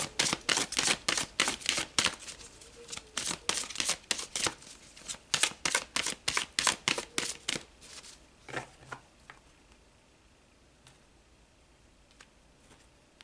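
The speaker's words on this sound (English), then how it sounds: "let's pull a couple more cards and then we'll wrap it up" Tarot cards are shuffled in rapid, crisp riffling bursts that run steadily for several seconds, then thin out into a few scattered soft taps and card pulls. The sound is close, with no talking.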